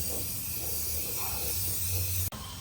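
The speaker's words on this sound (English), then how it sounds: "We'll do a little bit of rust reformer spray" Rust reformer is sprayed from an aerosol can onto the frame of a 1980-1996 Ford F-150, a continuous close hiss that stops abruptly with a click.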